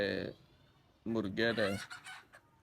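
A rooster gives a short harmonic call, then hens cluck and squawk in a loud, busy burst before the sound settles.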